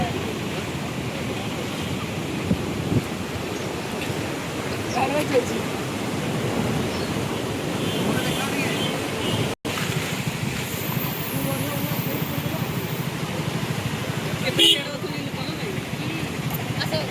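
Floodwater of the swollen Baitarani river rushes steadily past submerged temple steps, a continuous broad roar with wind buffeting the microphone, and a person speaking over it.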